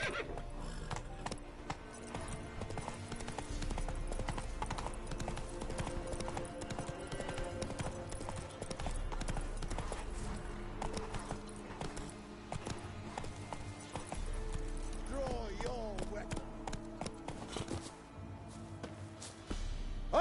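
Horse hooves clip-clop steadily and continuously at a moderate distance, with a brief whinny partway through. No voices are heard over the hoofbeats.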